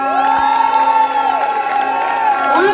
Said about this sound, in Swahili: Wapi makofi ya naibu wetu wa rais?